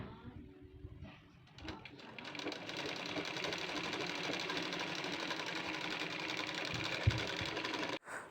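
A sewing machine double-stitches a blouse. After a few hesitant starts, the motor settles into a fast, even, close-up whir that runs steadily and then stops abruptly near the end.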